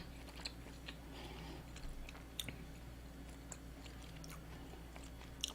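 Soft, close chewing of gyoza dumplings dipped in soy sauce, with faint moist bites and light crunches repeating over a quiet background hum.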